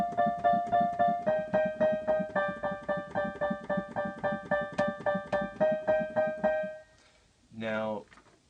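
Solo piano right-hand part of a song, a steady run of repeated chord stabs in even rhythm, clear and close, ending in a brief sustained tone near the end.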